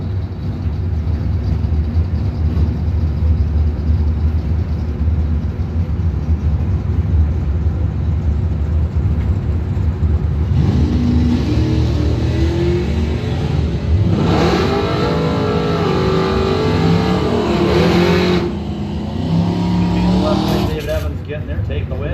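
Drag racing engines roar continuously as a Chevrolet Monte Carlo and a Corvette launch, loud revving that climbs in pitch near the end, with a track announcer talking throughout.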